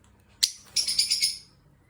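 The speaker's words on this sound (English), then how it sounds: "And these are our lovebirds." Pet lovebirds give one sharp chirp, then a quick burst of several rapid high chirps lasting under a second, close and clear against a quiet background.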